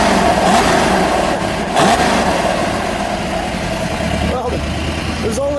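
A 1968 Plymouth GTX with a 426 Hemi V8 rumbles and revs loudly close by, its deep engine note surging and falling over several seconds while voices talk over it.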